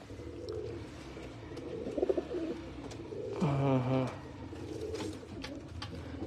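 Near, loud throaty cooing from a pigeon at a breeder's loft in Faisalabad swells in the middle over a low background murmur of other birds, with a few short flutters just before it.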